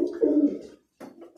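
Roller pigeons coo in low, throaty, rolling calls from close by, one call followed by a brief pause and then another, with no speech.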